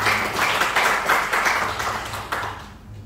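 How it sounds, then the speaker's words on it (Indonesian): A church congregation clapping together in praise, a warm, steady wash of many hands that fades off near the end, with no voices over it. "Boleh tepuk tangan bagi Tuhan."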